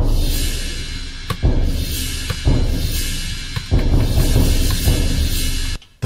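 Sharp pinball impact hits land every second or so, each followed by a splashy, ringing cymbal wash over sustained music in a Jersey Jack Pirates pinball machine.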